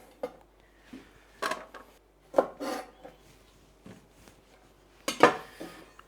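A knife chops green beans on a board in irregular quick bursts of sharp clicks and thuds, close and fairly quiet, with short pauses between strokes.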